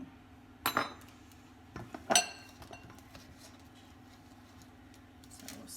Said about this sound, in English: we'll scoop our dough